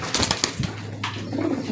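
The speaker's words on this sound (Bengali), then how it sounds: "দেখতে পাচ্ছেন স্ক্রিনে একজোড়া জার্মানি ব্ল্যাক বিউটি হোমা কবুতর আছে" A pair of German Black Beauty Homer pigeons cooing at close range, with soft, low, throaty calls in short bursts, brief rustling noises mixed in and no voices present.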